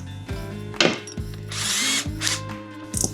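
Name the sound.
drill countersinking into plywood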